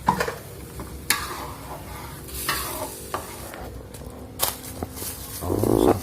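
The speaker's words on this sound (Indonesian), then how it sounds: "Dikei banyu digoreng nih guys." Ground seasoning frying in a pan with water added, a close sizzle with stirring scrapes and clinks of a utensil against the pan, ending in a louder hiss.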